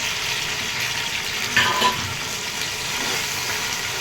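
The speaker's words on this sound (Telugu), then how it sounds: "దోరలుగా వేగించిన తర్వాత టమాటాలు ఎత్తి అందులో వేయాలి" Tomatoes frying in a hot pan for chicken biryani, a steady broad sizzle with a brief louder crackle burst midway, close and continuous with no talk.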